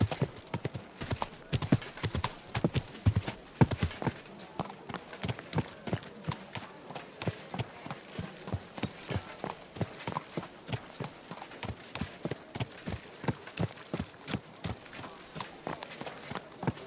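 Rhythmic horse hooves clopping at a steady walking pace in the game Kingdom Come: Deliverance II, crisp and close, continuing throughout with no talking.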